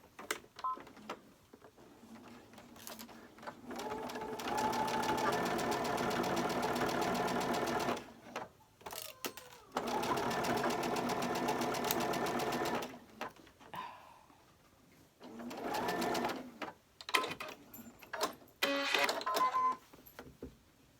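A sewing machine stitches a flying geese quilt block in several bursts of rapid, buzzing mechanical whirring, separated by short pauses and quiet handling noises, heard up close.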